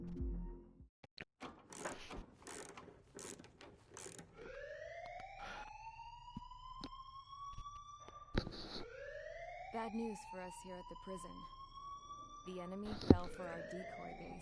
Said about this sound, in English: The first time I heard that, it really got me because that was the fire alarm noise at my high school.